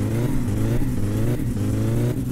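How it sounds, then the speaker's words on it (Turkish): A car in My Summer Car coming from the front, its engine droning steadily with a mid-pitched hum that holds fairly loud throughout. "Önden de araba geliyor."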